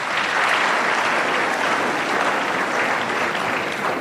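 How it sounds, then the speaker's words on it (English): An audience at a university career day claps to welcome parents, a dense, steady round of applause throughout with no talking. "can we welcome them with a nice hand clap?"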